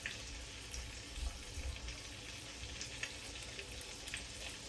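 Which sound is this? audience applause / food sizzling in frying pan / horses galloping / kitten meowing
food sizzling in frying pan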